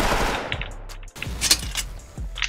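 AK rifle fire in Special Force Online, loud close bursts of automatic shots with a brief break, then a few more sharp shots spaced apart.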